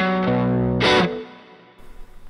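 Electric guitar through a Boss OD-1 overdrive pedal and a DIY starve box rings out a distorted, sustained chord, then a sharp bright pick scrape before the note cuts off to quiet hiss and faint handling noise.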